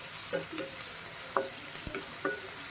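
Soft continuous sizzling of onions frying in a pan, with occasional light scrapes and taps of a spoon stirring, close and quiet.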